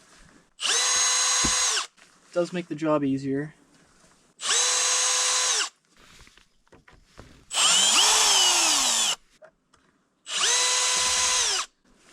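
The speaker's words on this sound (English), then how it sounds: "He's gonna bring power tools, which is always cool." Power tools whir in four separate loud bursts of about a second each, with short pauses between, and a person talks briefly in one gap.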